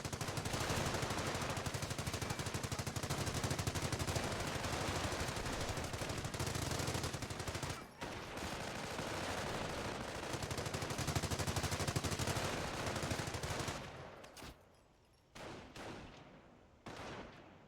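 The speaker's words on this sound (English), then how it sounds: "And now my machine gun is gonna press his machine gun, which he stole from me when my guys died." Sustained machine gun fire from an MG duel in Company of Heroes, on the Angoville map, loud and nearly continuous in dense bursts for about fourteen seconds before breaking into sparser, separate shots toward the end; no voices.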